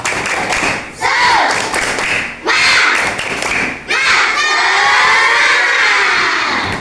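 Children clap a rhythmic spirit clap in bursts, loud and close, with shouting voices and crowd noise between the claps.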